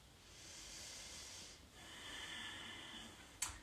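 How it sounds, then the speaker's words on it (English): Slow, soft breathing during a seated yoga class, a gentle inhale and exhale in a quiet room, faint and close, ending with a brief sharper breath sound. "Nice to inhale and exhale."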